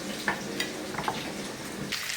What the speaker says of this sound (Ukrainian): Наше м'ясо легенько підрум'янилося